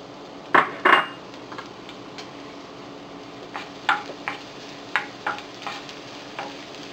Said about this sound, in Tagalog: Magpapainit lang tayo ng cooking oil dito sa pan. Then, ilalagay na natin dito yung garlic.